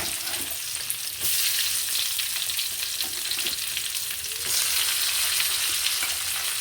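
Onion, tomato, cumin, chili and tamarind fry steadily in ghee in a pan for spicy chicken puli munchi, a dense, continuous sizzle that swells louder at two points, with no talking.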